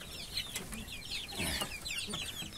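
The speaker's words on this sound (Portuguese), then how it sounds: "É tudo franguinha, pessoal." Young free-range hens clucking on a farm during feeding with fine cracked corn and feed, several birds close by with overlapping soft clucks and chatter, a faint rooster-like call mixed in.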